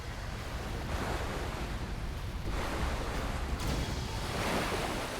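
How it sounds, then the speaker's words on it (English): Waves batter the inside of an underground cavern by an unpredictable river, a loud, churning roar of surf that swells in repeated surges over a few seconds, with no voices. "multiple waves batter the inside of the cavern"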